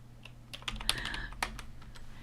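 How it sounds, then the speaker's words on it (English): Fingers tap out quick, irregular keystrokes on a nearby computer keyboard, the clicks fairly soft over a faint steady hum with no talk. "I gotta get my fingers on the right keys."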